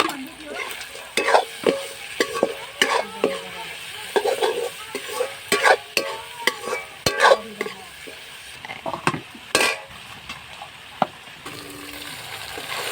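A spoon scrapes and stirs timbur, ginger and chili in a sizzling pan for Nepali wachipa, giving irregular clanks and rustles over a soft frying hiss.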